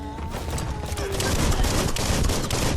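Dense, continuous gunfire from Biomutant gameplay on PC, a loud unbroken fusillade of rapid shots packed together across the whole stretch with no pauses.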